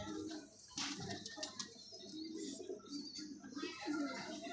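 Soft pigeon cooing repeats in low murmurs from an agitated pigeon, with some faint rustling and a voice mixed in now and then.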